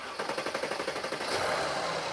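Mercedes-Benz GLS 450 engine cranking over, a rapid rhythmic starter chug of about a dozen even pulses before it catches and settles into a smoother run, heard fairly quietly and close.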